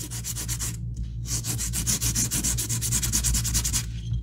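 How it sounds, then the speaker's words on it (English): Wooden fishing lure being sanded flat with 180 grit sandpaper: close, steady rhythmic rasping strokes with a short pause near the start, no voices. "I'm going to take some 180 grit sandpaper and I'm just gonna kinda sand it a bit flat"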